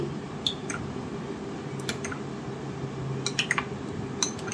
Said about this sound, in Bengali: এবার সমস্ত উপকরণগুলো একসাথে ভালো করে মিশিয়ে নিচ্ছি